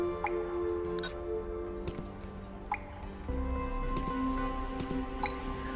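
Water drips from pipes in the video game Tales of the Neon Sea, a few sharp isolated plinks spaced irregularly over a steady ambient music bed.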